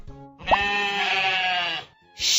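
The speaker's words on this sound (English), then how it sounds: "Sheep." A sheep bleats in one long, loud, wavering call that rises then holds steady, followed by a short gap and the start of another bleat, with no talking over it.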